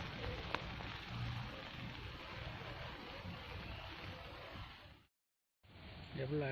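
Steady rain pattering down on a canal during a fishing trip, a dense continuous hiss that cuts out abruptly for a moment, then returns with a low thump or knock near the end.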